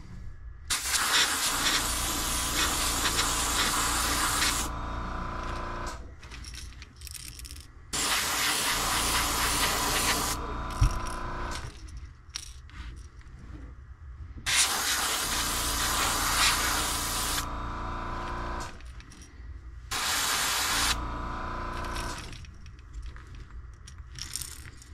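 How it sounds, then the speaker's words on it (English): An airbrush sprays pearlized white paint onto a golden shiner fishing lure in five loud hissing bursts of several seconds each, separated by short quiet pauses, close to the microphone with no talking. "let's throw the second coat of the pearlized white on"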